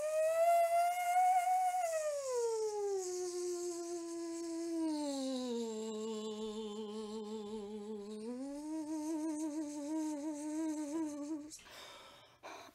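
A voice imitates a buzzing bee with a steady, closely held hum that dips lower, then rises higher again in a wavering, continuous drone lasting about eleven seconds before a brief breathy stop.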